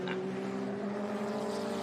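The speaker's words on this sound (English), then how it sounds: "I can hear that Mazda screaming away in the background" A Mazda race car engine screams steadily at high revs on the Laguna Seca track during a historic racing event, a continuous droning whine heard from a distance with no talk over it.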